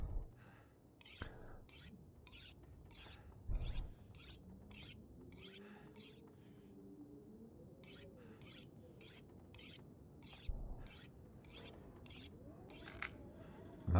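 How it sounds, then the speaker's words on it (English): Hatchet sharpened on a whetstone in The Long Dark: a long series of crisp, evenly spaced rasping strokes, close and fairly quiet, with a short pause midway and faint background tones beneath. "if we give that hatchet a quick sharpen"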